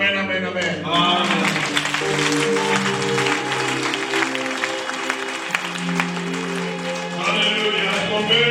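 A church congregation at a worship service claps and cheers in a loud, sustained burst of applause that blends with music playing underneath.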